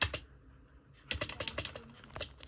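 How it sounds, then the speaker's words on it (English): Spacebar presses on a Keji RGB gaming keyboard with a glossy, smooth finish: a cluster of clacks, then a fast run of about a dozen close, loud, clattery presses. "let's try and clicking down the spacebar"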